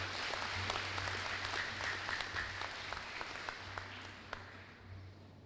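Faint, distant applause from an audience at a college commencement ceremony as an award recipient is welcomed to the stage, a steady patter of clapping with a few sharper individual claps standing out.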